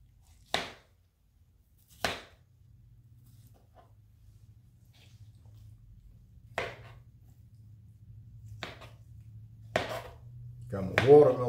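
A knife chops watermelon into bite-sized chunks on a board, giving several separate sharp knocks spaced a second or more apart, close and moderately loud, with a quiet hum underneath.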